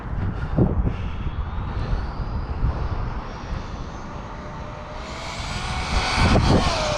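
Traxxas Maxx Slash RC truck ripping at full throttle outdoors: a high electric motor whine that swells, fades as it passes, then builds again, with thumps and rushing ground noise, fairly loud and close.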